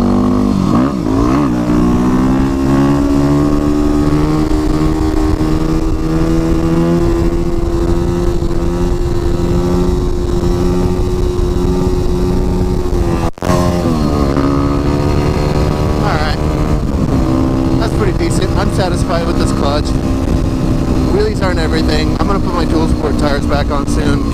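Yamaha WR250R supermoto motorcycle engine revving steadily during wheelies on pavement, a loud continuous drone with rising and falling pitch, one brief break midway, close and prominent throughout.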